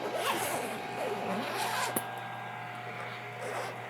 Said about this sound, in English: I'll go ahead and zip the cover down.